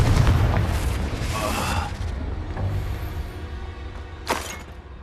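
A Confringo fire spell from the Hogwarts Legacy game bursts with a deep booming blast and crackling debris, followed by rumbling and a second sharp impact near the end.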